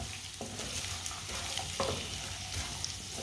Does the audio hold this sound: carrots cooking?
yes